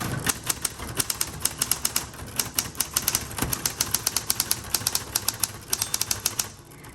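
A 1960s Coronet Electric typewriter types in fast, sharp clattering keystrokes, close and loud, in an uneven rapid rhythm, with an end-of-line bell somewhere in the run.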